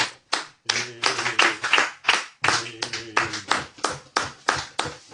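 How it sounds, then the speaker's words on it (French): A congregation claps during a church service in a loud, close, rhythmic series of sharp hand claps that keeps a steady beat. "Acclamons très fort."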